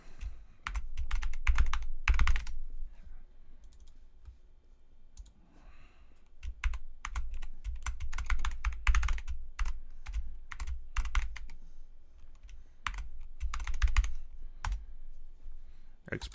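Clusters of rapid clicky keystrokes on a computer keyboard during 3D modeling work, near and crisp, with a quieter lull in the middle. A voice talks in between.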